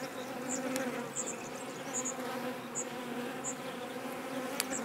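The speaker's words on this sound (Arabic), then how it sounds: "انظروا النحل كيف يعمل على حماية البيوض أو حماية البيض الجديدة" Honeybees busy inside a hive tending new eggs, a steady close buzzing drone with individual bees whining past now and then, no talk.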